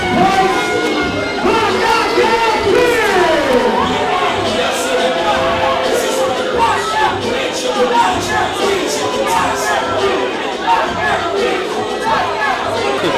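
Wrestling arena crowd at a tag-team championship match, a dense, steady roar of cheering, shouting and chatter that stays loud and continuous throughout as the challengers make their entrance.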